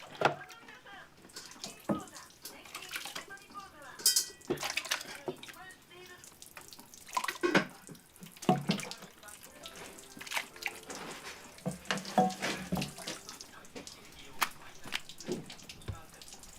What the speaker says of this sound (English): It takes time to naturally let the water strain through the holes.